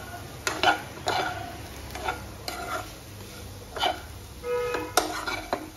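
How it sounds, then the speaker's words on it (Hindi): Sesame seeds and potatoes are stirred in a pan for a crispy dry aloo dish, with repeated spoon scrapes and clinks against the metal at an irregular pace over a soft sizzle, close up and with no talking. "अब इसको हम मिक्स कर लेते हैं अच्छे से"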